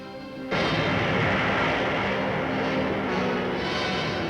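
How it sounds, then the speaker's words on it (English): An Honest John rocket fires from an Army artillery battery: after a brief quiet moment, a sudden loud roar bursts in and holds as a steady, broad rushing blast until the end. "The giant rocket waits motionless until the firing key is pressed, and then"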